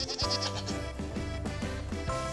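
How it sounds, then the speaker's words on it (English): A goat bleats in repeated wavering, nasal cries, loud and close, with a steady quavering rhythm and no talking. "I think goats are one of my favorite animals."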